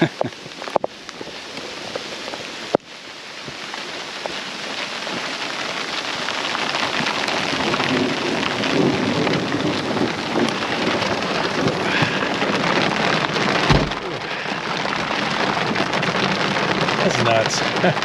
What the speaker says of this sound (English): it's starting to hail again too